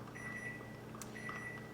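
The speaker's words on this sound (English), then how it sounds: "And that is a timer for the chicken." An oven timer gives two thin, steady electronic beeps about a second apart, fairly faint over constant kitchen background noise.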